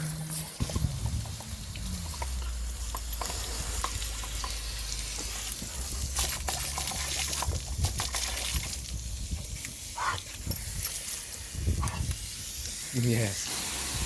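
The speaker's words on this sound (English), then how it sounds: "just spray it until clear water comes out" A hose sprays water in a steady, hissing rush to rinse dirt and pine needles out of a moss mat, running continuously with occasional bursts and clatters and a voice speaking at times.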